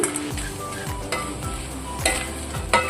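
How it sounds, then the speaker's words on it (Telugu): Taro root pieces stirred and fried in a pan give a steady sizzle, broken by a spatula scraping and clinking against the pan at regular intervals, close up and with no talking. "ఇప్పుడు మనం ఈ ముక్కలన్నీ కూడా ఇంట్లో వేసేసుకుని ఒక టూ మినిట్స్ అలా తిప్పేసి కారం చల్లుకోవాలి"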